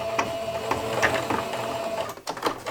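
A sewing machine runs a quick stitch across a strip of fabric, its rapid mechanical whirring and needle clatter steady and close, pausing briefly before a few more stitches.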